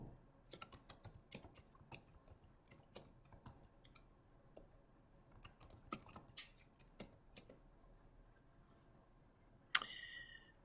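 Soft, close keystrokes patter irregularly on a computer keyboard while logging into software, faint clicks in short runs with gaps, ending in a brief bright chime.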